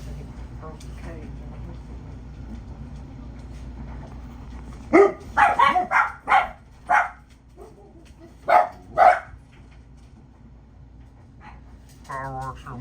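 Dogs upset by fireworks bark in a burst of sharp, loud barks clustered together, with a few more barks a little later and a faint whimper near the end over a low background hum.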